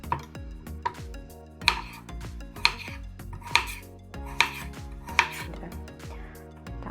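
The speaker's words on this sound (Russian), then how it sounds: "Я буду нарезать брусочками." A knife chops a carrot into sticks on a cutting board for pilaf, giving a steady series of sharp, close thuds with short pauses between strokes, each cut clear and alone with no talking.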